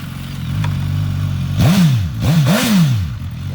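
A 2018 Suzuki GSX-S1000 ABS street fighter superbike idles steadily, then revs up sharply three times in quick succession, each rise and fall of the engine loud and close.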